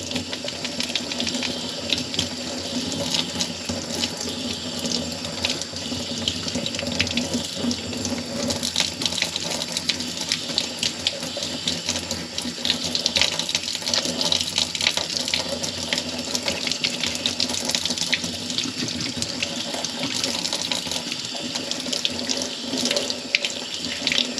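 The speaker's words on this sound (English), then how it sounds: "Just using hot water here." Hot water runs steadily from a tap into a sink while a beaver skull is being cleaned, a continuous close splashing stream lasting the whole stretch with no talk over it.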